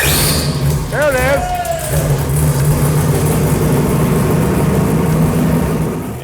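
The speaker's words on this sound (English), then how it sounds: "sure enough, Biggin's car fired right up and ran clean and smooth" A drag race car engine fires up and settles into a loud, steady idle with a rough rumble, while a voice calls out over it near the start.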